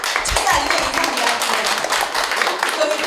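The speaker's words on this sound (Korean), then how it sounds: "여러분 박수 한번 부탁드리면 감사하겠습니다." An audience at an art forum gives a short burst of dense clapping that holds steady and fairly close throughout, with faint voices mixed in underneath.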